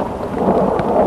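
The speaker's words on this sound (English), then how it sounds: "Summer storms in the Southern Cascades bring the blessing of rain." Thunderstorm rain in the Southern Cascades of Lassen National Park, a steady, dense wash of falling rain with a low rumble underneath, close and continuous through the short stretch.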